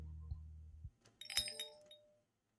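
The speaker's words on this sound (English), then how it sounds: "A charming little chime rings out from above the door as I enter." A small bell above a cafe door rings as the door opens in the game Please Be Happy, a bright tinkling chime that follows a low door sound and fades out quickly.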